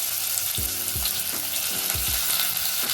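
Onions frying in refined sunflower oil with cumin, a dense, steady hiss of hot oil up close, with a few soft low knocks as the pan or spoon is moved.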